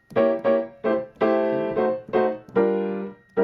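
Drop 2 jazz piano chords moving through the cycle of fifths, played in a swing feel as short syncopated stabs and longer held chords, clear and close with no talk.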